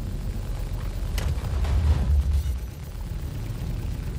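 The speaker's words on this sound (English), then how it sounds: "Incoming missiles." Missile explosions in the space combat game Star Citizen: a loud, low rumbling boom swells through the middle of the clip over a continuous engine drone, then tails off.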